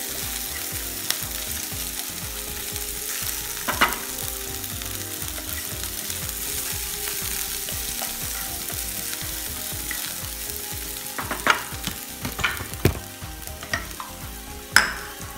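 Onions sizzle as they sauté in a pan for devilled chickpeas, with a steady frying hiss and occasional sharper scrapes and clinks of stirring, close up and without speech.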